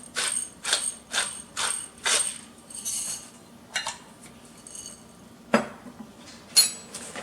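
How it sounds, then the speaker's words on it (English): Dry gravy mix with salt and pepper stirred in a bowl, a series of quick clinking, scraping strokes in an uneven rhythm with pauses, close and fairly crisp, no voices. "I'm going to give this a stir."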